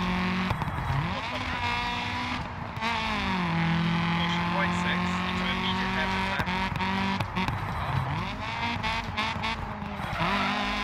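Lancia Fulvia HF rally car in the Dirt Rally video game, its engine droning loudly and steadily throughout, pitch sweeping down and back up with gear changes, with someone talking over it.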